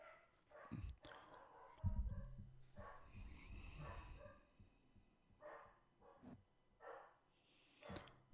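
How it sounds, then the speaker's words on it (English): A house dog barking somewhere in the background, several faint scattered barks in a quiet room with little else going on. "My dog's barking."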